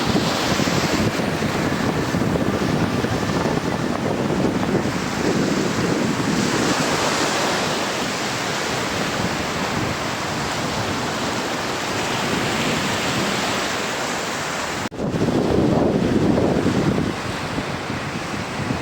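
Continuous roar of sea waves breaking on a shore, heavy wind buffeting the microphone throughout, with a louder surge near the end.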